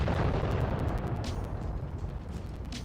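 Turret gunfire and explosions in a video game, a heavy rumbling low boom rolling throughout with a few sharp cracks on top, loud and continuous with no talking.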